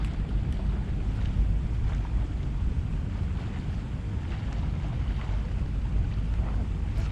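Wind rumbles and buffets steadily along the Qatar seashore, with the wash of sea water lapping underneath in a continuous, fairly loud outdoor bed and no voices.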